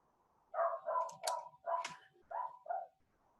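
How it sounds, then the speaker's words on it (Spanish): A dog barks and whimpers in six short, close yelping bursts with whiny, tonal cries, alone against a quiet background. "Aprovechan de escuchar a mi perro mientras estoy resolviendo estas cosas"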